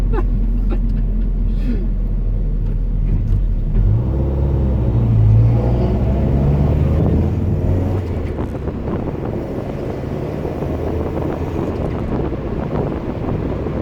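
A Mazda Miata fitted with DIY motorcycle-carburettor throttle bodies is driven on a crude map, giving a loud, continuous low engine drone under heavy wind buffeting from the cabin.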